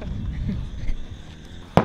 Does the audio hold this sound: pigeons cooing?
no